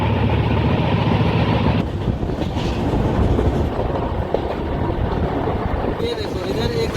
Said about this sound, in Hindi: ये देखो इधर एक और ट्रेन आ रही है।